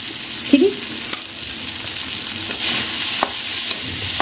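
Peas mixture with sugar and tangy powder stirred in a frying pan for a pea paratha filling, a steady soft sizzle with a few light scrapes and clicks of the spoon against the pan.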